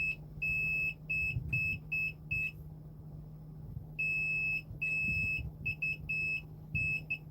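Sharp high-pitched electronic beeps from a multimeter continuity test on PS5 capacitors, showing a short, in short repeated bursts, pausing briefly before resuming, over a low steady hum.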